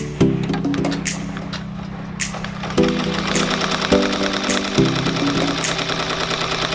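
Embroidery machine tacking down sandy glitter vinyl, a close rapid mechanical stitching hum with rhythmic needle clatter that pauses and restarts several times.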